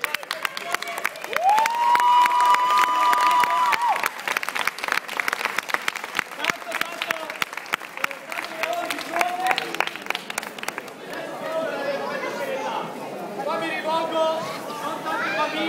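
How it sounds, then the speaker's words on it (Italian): Audience at a live show giving performers big applause and cheering, dense clapping mixed with whoops and crowd chatter, a rising whistle-like tone early on, then fading into murmuring voices. "vorrei per loro un grande applauso"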